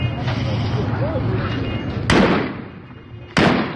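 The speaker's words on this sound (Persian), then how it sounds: "تیراندازی در منطقه ابو ذر" Gunfire in the Abuzar district during Iranian street clashes with security forces, September 2022: two sharp, loud cracks about a second apart stand out over a constant din of crowd noise and voices.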